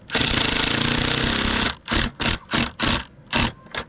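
A power driver sinks a screw into pre-drilled scrap pallet wood for a flower box, first with one long continuous whir, then with five or six short bursts of the motor, close and loud.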